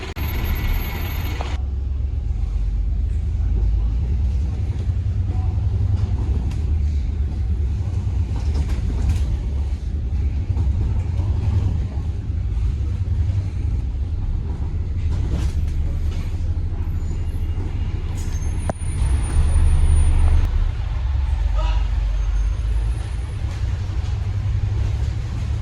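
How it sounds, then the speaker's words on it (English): A local bus pulling in at a stop, its diesel engine rumbling low and steady, with a hiss of air brakes and mechanical clunks partway through, heard from nearby at the roadside. "Boy, am I glad to see that bus."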